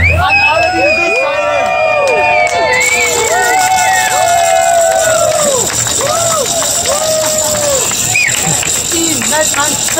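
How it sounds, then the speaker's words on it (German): Large outdoor demonstration crowd in Berlin cheering, whooping and shouting loudly, with whistles and rising voices layered over a dense, continuous roar. "Und dafür einen großen Applaus bitte an alle, die Gesicht zeigen."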